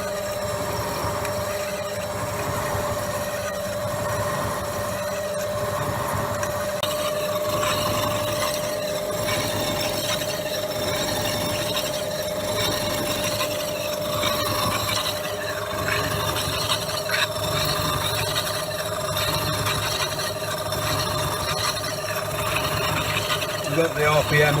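An Elliot 14S shaping machine takes a 200 thou cut, producing a steady mechanical drone with a constant tonal hum and faint rhythmic knocking that continues evenly throughout.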